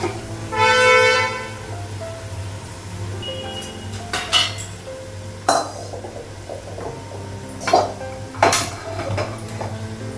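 Pots, pans and metal utensils clatter in a home kitchen as a wok is set on the stove before frying crabs, with several sharp clanks spread over a steady low hum.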